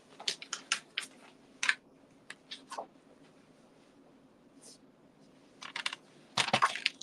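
Paper trimmer cutting paper at a craft table, quiet scattered clicks and short sliding scrapes in uneven bursts, close up with a faint background hum.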